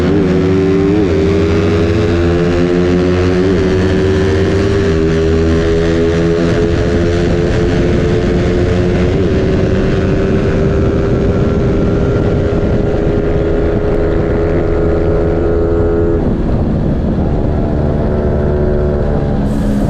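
Motorcycle engines, including a tuned Yamaha Sniper 155, roar loudly and continuously, rising in pitch as they accelerate and shift through gears, close to the microphone.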